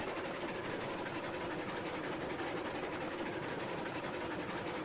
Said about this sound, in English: I'm curious though, with the train slowing down in that like slight grade there